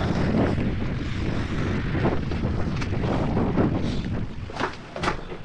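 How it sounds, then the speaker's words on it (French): Strong wind at sea buffets a boat off Porquerolles, a loud, constant roar battering the microphone with gusty surges and no voices. "Le vent est carrément plus fort qu'annoncé."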